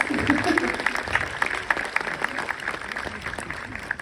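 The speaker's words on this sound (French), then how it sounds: "on peut applaudir Laurence Arnay s'il vous plaît" Scattered clapping from an audience at a film premiere in a cinema, strongest at first and thinning out, heard over a room's background.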